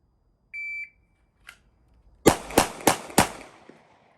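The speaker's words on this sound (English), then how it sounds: "4 shots. Final volley. Shooter ready. Stand by." Four loud rifle shots crack in quick succession at a shooting-stage final volley, evenly spaced about a third of a second apart, each with a sharp attack and brief decay, preceded by a short electronic timer beep and a faint click.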